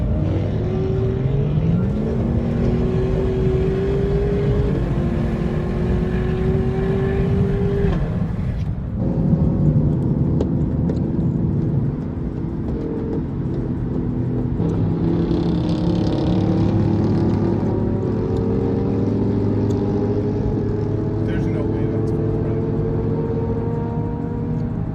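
Cars speed past one after another on a city street during a late-night Bay Area street racing meet, engines rising and falling in pitch as each one goes by, loud and continuous throughout.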